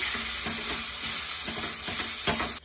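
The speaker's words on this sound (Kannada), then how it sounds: "ಇವಾಗ ಇದನ್ನ ನಾನು ಚೆನ್ನಾಗಿ ಮಿಕ್ಸ್ ಕೊಟ್ಕೊಳ್ತೀನಿ ಒಂದು" A spice masala of coriander and chilli powder is stirred in an oily pan for prawn fry, a steady sizzle overlaid with rhythmic scraping strokes roughly every half second.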